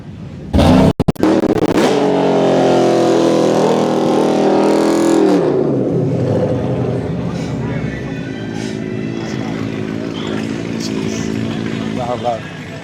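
A loud car at a Sacramento car meet roars nearby, its engine revving hard before settling into a steady rumble, with people talking over it.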